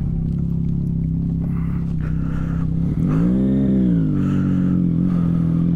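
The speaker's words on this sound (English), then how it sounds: "That is a noisy bike." A Kawasaki Ninja 1000 SX motorcycle is heard on the move, its engine holding a loud steady drone that swells into a brief rising rev midway before settling back, with wind noise throughout.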